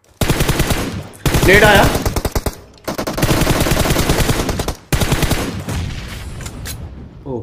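Rapid automatic gunfire from a first-person shooter game, a fight through smoke, rattling in loud sustained bursts with short gaps, while someone speaks briefly over the shooting.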